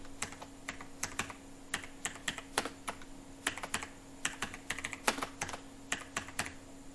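Keys on a computer keyboard tap out entries for an India Post GDS recruitment form in quick, uneven bursts of quiet, close clicks over a low background hum.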